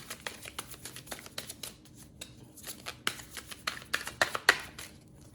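Tarot cards are shuffled and drawn at close range in soft papery flicks and snaps, sparse at first and then denser and sharper toward the end, with no voice.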